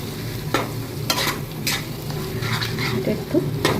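Taro leaves stir-fried with hilsa fish heads in a pan, a low steady sizzle punctuated by sharp scrapes and clinks of a spatula against the pot every second or so.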